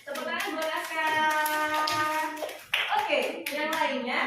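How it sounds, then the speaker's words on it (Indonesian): Children in a classroom clap briefly in scattered bursts, mostly buried under singing or chanting young voices and a teacher talking, with the clapping sharpest near the middle and end. "Tepuk tangan buat Aska."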